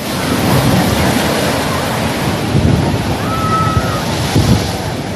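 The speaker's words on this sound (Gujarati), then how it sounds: "અરબી સમુદ્રમાં ભારે કરંટથી 15 થી 20 ફૂટ ઊંચા મોજા ઉછળ્યા" Rough Arabian Sea waves crash at Dwarka in strong wind, a loud continuous roar of surf with heavy wind buffeting the microphone and surges of breaking water.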